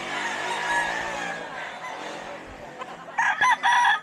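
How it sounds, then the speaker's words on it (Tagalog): A rooster crows loudly nearby, its call breaking into a harsh, stuttering finish over a faint background murmur. "Malaking manok din to."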